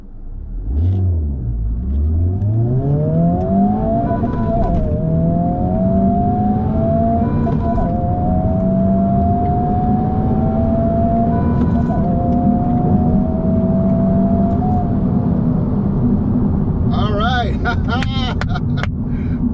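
Stock Honda FL5 Type R launching hard down a quarter-mile strip, engine revving and climbing steadily through several gear changes with rising pitch, loud and continuous, a brief whine near the end.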